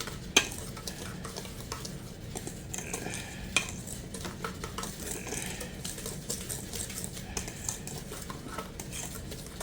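Cake batter for an eggless cake stirred by hand in a bowl, a steady scraping and swishing with occasional clinks of the utensil against the bowl, close and continuous, with no talking.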